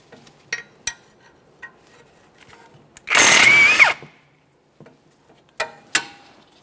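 A power tool spins a stuck mounting bolt on the rear upper control arm of a 2015-2019 Subaru Outback in one loud burst of about a second, with a few light metallic clicks before and after.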